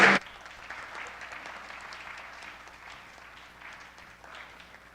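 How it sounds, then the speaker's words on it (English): Audience applause at a city council meeting after a Cub Scout color guard presentation, starting with a brief loud burst then continuing as soft, distant, steady clapping from a modest crowd. "Let's give a round of applause."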